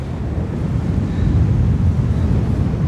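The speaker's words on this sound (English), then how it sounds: "this little bit of land slows down the waves and wind" Wind and waves on Loch Shiel in wild Scottish weather, a steady low roar of gusting wind buffeting the microphone with rolling surf beneath, continuous and close, no voices.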